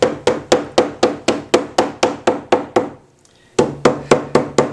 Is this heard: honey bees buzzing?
no